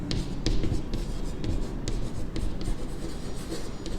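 Pen writing by hand on paper while working through a commerce maths problem on weekly earnings, steady close scratching strokes with brief taps, no talk.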